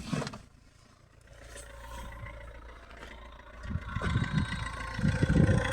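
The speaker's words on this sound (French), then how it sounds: "Voilà le moteur." A Renault Clio 2 with a 1.5 dCi diesel engine runs at idle, a low, faint rumble that swells noticeably louder toward the end with no one speaking.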